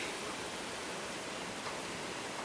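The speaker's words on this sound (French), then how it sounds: "on entend le bruit là, de l'évaporateur" Maple sap boiling in an evaporator with two pans at a sugar shack, a steady, dense hiss and roar like rushing water, unbroken and fairly faint throughout.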